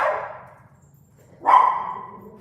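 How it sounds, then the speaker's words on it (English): A pet dog gives two barks indoors, one fading at the start and a sharper, louder bark midway, with quiet room noise between them and no talking. "Sorry about my dog."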